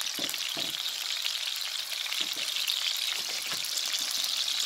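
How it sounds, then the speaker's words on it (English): Fish sizzles as it fries in a pan, giving a steady close crackle with a few soft stirring knocks. "Now I'm going to gently fry this fish, avoid breaking it."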